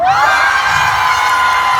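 Concert audience at an outdoor food festival stage in Korea cheering, whooping and shouting in a loud, sustained crowd roar with high voices prominent, close and continuous throughout.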